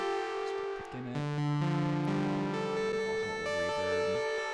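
A distorted, saturated synthesizer plays a sequence of thick sustained tones that step in pitch, with a dense buzzing harmonic edge throughout.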